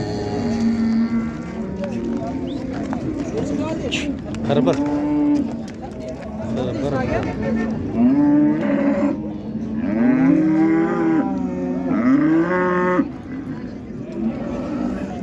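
At a cattle market in Karshi, a big bull lets out a series of long, loud, droning moos, several in a row, with people talking and market chatter all around.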